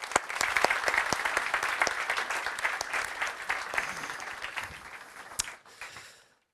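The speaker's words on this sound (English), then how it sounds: "Let's give them a warm applause." An audience at the 2024 NATO Youth Summit in Stockholm applauds warmly, many hands clapping at once in a dense, steady burst that trails off into quiet.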